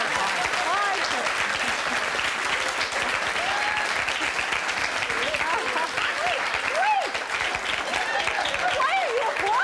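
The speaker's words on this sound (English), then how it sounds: "Why are you applauding?" Studio audience on a television talk show applauding steadily and loudly throughout, a dense wash of clapping with overlapping voices and whoops mixed in.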